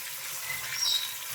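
Pork roast browning on both sides in melted fat in a pan gives a soft, steady sizzle, quiet and close, with no talking.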